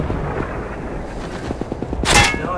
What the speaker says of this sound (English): And the sniper takes a shot.